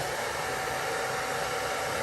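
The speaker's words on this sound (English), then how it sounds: "I'm gonna put my hairdryer on low and cool" A hair dryer on its low, cool setting blowing over poured acrylic paint, giving a steady, broad whooshing roar throughout, close and unbroken, with no voices.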